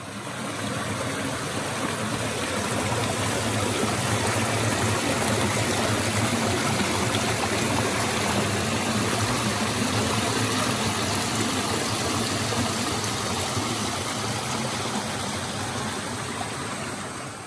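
Hot sulphur spring water flows steadily at a resort, a continuous broadband rush and trickle that stays loud and even throughout, with no voices over it.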